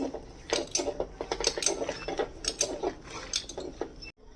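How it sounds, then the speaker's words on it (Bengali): Boiled masoor lentils being mashed with a dal masher in a pot, giving a close run of rapid clattering, scraping knocks that continue steadily before stopping abruptly at the end. "ডাল ঘুটনি দিয়ে এবার এটাকে একটুখানি মিশিয়ে দেব ডালগুলো"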